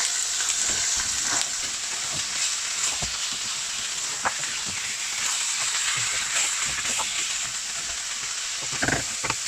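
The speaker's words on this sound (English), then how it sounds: "my onion is slightly brown now, so I'm going to add the meat as well" Mutton frying in a pan with browned onions for Rajasthani laal maas, a steady close sizzle with occasional sharp crackles and stirring scrapes, no talk.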